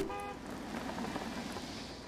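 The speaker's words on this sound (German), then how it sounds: "Er hupt." Car horn honking on a road amid traffic noise, a short tonal toot at the start followed by continuous loud road and engine noise.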